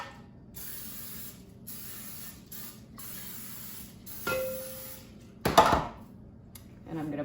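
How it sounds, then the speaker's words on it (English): Non-stick cooking spray hissing onto mini loaf pans in a home kitchen while making Ethiopian honey bread, a long spray burst then a shorter one, close and clear over quiet room noise. "I'm going to spray them so it doesn't stick."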